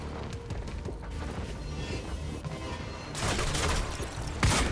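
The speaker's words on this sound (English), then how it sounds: "Shotgun blast." A shotgun blast in the shooter game Quantum Break, heard as dense, noisy game action with a louder broadband burst near the end amid continuous background effects.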